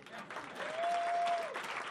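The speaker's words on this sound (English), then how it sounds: "Hubert Humphrey is worth an applause" A crowd claps during a speech by a DNC chair candidate: a brief wash of applause with a short whistle rising through it, fairly faint and heard from some distance.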